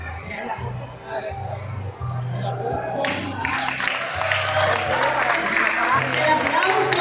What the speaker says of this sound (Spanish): El aplauso para los chicos de la comunidad de San Arnoldo Yance